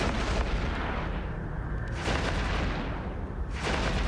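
Autocannons firing in the space game EVE Echoes, a dense, continuous roar of rapid booming shots that swells and dips over a few seconds, loud and up close with no talking.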